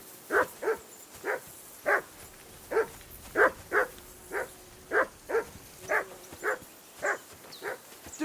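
A dog in Kingdom Come: Deliverance II barks over and over in a steady rhythm, about fifteen short yelps across the stretch with faint whimpering tones between them, close and fairly loud with no voices.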